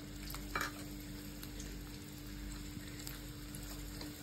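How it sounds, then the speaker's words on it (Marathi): Green chillies and garlic roast in hot oil on a griddle for a Maharashtrian thecha, giving a steady, close, dense sizzle throughout with a few faint crackles and stirring scrapes. No one speaks. "सतत आपल्याला अशी ही मिरच्या आणि लसूण परतत राहायचं आहे"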